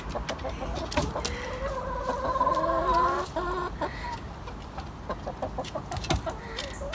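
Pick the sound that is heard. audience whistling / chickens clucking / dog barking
chickens clucking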